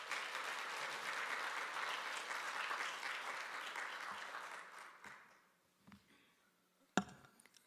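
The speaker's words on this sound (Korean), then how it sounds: "우리 선교사님 나오실 때 따뜻한 환영의 박수 부탁드립니다." Warm welcoming applause from a church congregation at an early-morning prayer service, a steady wash of clapping that fades out after about five seconds, followed by a few scattered faint knocks and one sharp thump.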